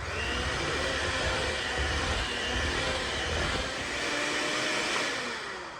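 Electric mixer whirring through sweet potato pie filling with evaporated milk, a steady dense motor drone that holds loud and unbroken throughout, with no talk.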